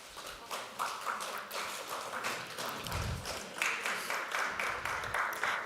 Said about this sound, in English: Everyone give a round of applause for Katie.